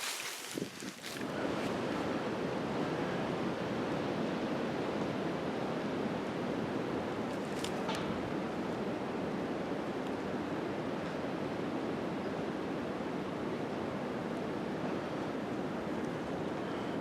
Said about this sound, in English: the wind is a whipping